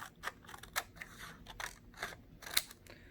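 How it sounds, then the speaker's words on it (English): Scissors cut strips from a scrap piece of paper, a series of crisp close snips at an uneven pace, about eight cuts with faint rustling between them and no talk. "you could use a scrap piece of paper and you can cut strips"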